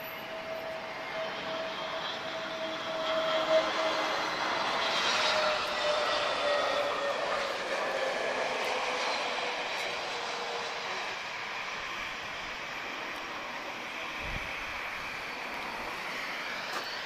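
A TAP airliner touches down smoothly on the runway at Lisbon Airport, its jet engines a sustained, moderately distant roar that peaks early then settles into a steady rumble with no talk over it.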